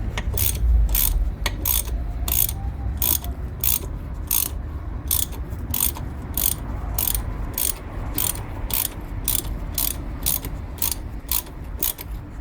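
A ratchet wrench clicks steadily in quick, regular bursts while backing out a long bolt on a car's shock absorber, each burst of sharp metallic ticks close and distinct over a low mechanical rumble.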